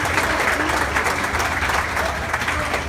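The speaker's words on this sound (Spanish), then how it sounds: "Un aplauso" Applause for parents at a family thank-you gathering, a dense, steady wash of many hands clapping that stays loud and even throughout.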